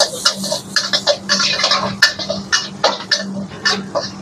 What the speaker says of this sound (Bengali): এখন বাটারের উপরে আমি তো গার্লিক দিয়ে দিলাম, আর এই গার্লিকটারে আমি নাড়াচাড়া করবো।